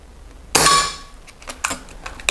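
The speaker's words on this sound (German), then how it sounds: "Jetzt kommt der 6. Schuss." An air gun fires a single diabolo pellet in a sharp, bright metallic crack that rings briefly, followed by faint small clicks and handling noises nearby.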